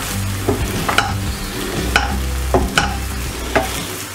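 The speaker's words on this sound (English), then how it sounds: "a little bit of butter in the frying pan. In goes our beaten egg." Beaten egg cooking in butter in a frying pan, a close, steady sizzle with regular spatula scrapes and taps against the pan as it scrambles.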